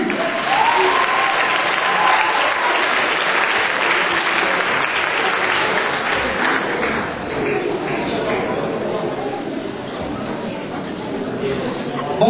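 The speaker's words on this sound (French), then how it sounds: "je vous demanderai également aussi de lui adresser des applaudissements de confiance" Audience applause fills a venue as a performer is welcomed onto the stage to open an evening rock'n'roll show, steady and loud throughout, with voices and shouts mixed into the clapping.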